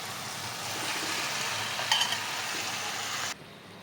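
Fried chicken pieces go into sizzling masala in a kadai, producing a steady close sizzle with a brief clatter midway before the frying noise drops off abruptly.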